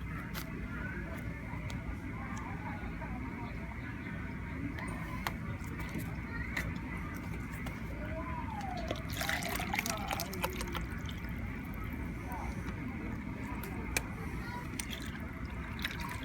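A gentle trickle of distilled water pouring into a 2017 Airstream Classic travel trailer's tank, steady and soft under a constant low background hum.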